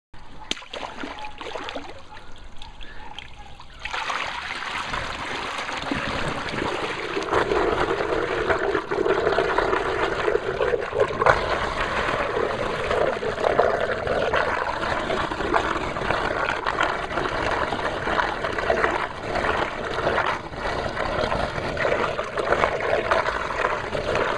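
Water released from a tank holding about 8.5 inches of water rushes down a control pipe during a first test, starting as a sudden steady gush after a quiet moment and continuing as a loud, even flow.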